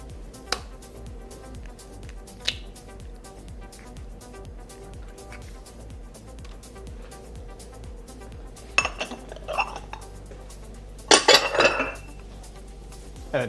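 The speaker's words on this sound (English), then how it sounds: "We're gonna grill the pound cake, so what I want to do is we want to make it a little more dense, so it's a little more firm to cook. I'm gonna add 2 eggs." Eggs cracked and separated into yolks for a pound cake batter, with light clinks and taps of shells and utensils against a bowl, a few sharper knocks, and a busier clattering burst near the end, no talk.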